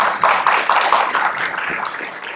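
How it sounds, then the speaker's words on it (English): Audience applause at an undergraduate research symposium, a dense steady patter of many hands clapping close by, running throughout without talk. "Let's give her another round of applause, please."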